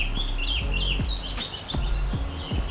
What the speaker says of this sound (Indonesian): Banyak suara burung.